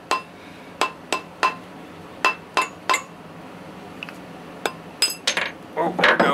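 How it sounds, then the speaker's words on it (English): Sharp, evenly spaced metallic knocks, about a dozen, of a mallet knocking a coin ring off a mandrel ring out close by, ending in a cluster of quicker taps and a clatter. "Just take a hammer or a mallet, rubber mallet, whatever."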